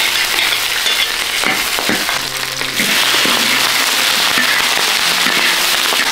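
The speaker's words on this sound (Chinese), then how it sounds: "我要开始爆炒菜苔了" Choy sum stir-fried over high heat in a large wok gives a loud, continuous hissing sizzle, crackling and popping throughout with the scrape of stirring.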